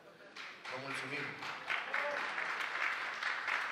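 An audience at a casino industry awards gala applauds, the clapping swelling from a scattered start into a steady crowd applause, heard under a voice speaking into a microphone.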